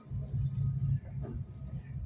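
A bunch of keys jangles close by during a fuel filter change on a Suzuki Bandit 1250 motorcycle, rattling in two short bursts with a brief pause between them.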